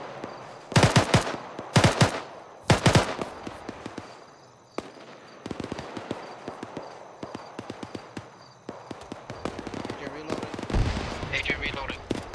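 Gunfire in the military shooter ArmA 3: three loud close bursts in the opening seconds, then scattered distant shots and crackling reports, with voices talking over the later firing.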